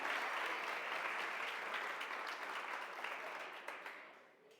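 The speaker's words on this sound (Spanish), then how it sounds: "Démosle un aplauso" Studio audience applause for a man about to tell a joke on a Cali comedy show, steady dense clapping that fades out toward the end, heard alone without talk.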